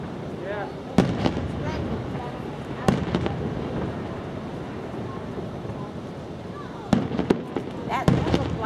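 Festival fireworks bursting in a handful of sharp, loud booms spaced a few seconds apart, with crackling tails, over a steady outdoor rumble and people chatting nearby.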